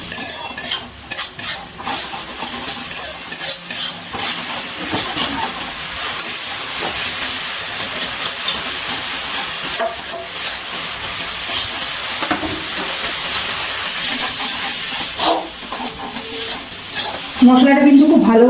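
Spice paste with Kashmiri chilli powder sautéing in a pan, a steady soft sizzle and hiss with scattered scraping stirs of a spoon, close and moderate in level.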